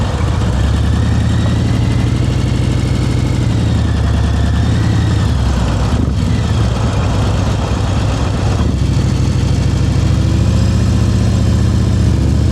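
A motorcycle engine runs steadily through slow speed riding practice in Florida, a low continuous idle-like rumble with slight dips and swells as the throttle and clutch are worked, close and unbroken with no talk.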